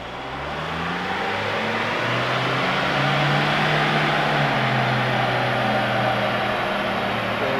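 A car engine on a dynamometer holds near maximum throttle during an electronic-throttle test run, a loud, steady roar with harmonic tones slowly rising in pitch across the pull, with no talking.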